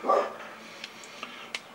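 Dog barking once, a short close bark at the start, followed by a few faint clicks and small noises in a quiet room.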